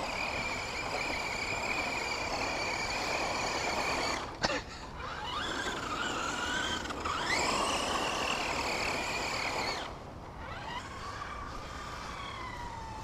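Volcano EPX 2S electric RC car on a dirt road, its motor giving a steady high-pitched whine that rises and falls in pitch as it speeds up and slows, with brief dips, close and continuous, no talking.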